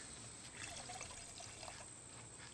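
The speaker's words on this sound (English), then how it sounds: "So I'm gonna pour that in my blender to make sure that I get out all the goodies" Strong coffee pours steadily into a blender, a faint continuous trickling splash heard alone at low level.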